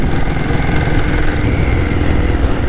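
A 1997 diesel Bullet motorcycle engine runs with a steady, loud, low thumping chug that holds an even rhythm throughout, with no speech.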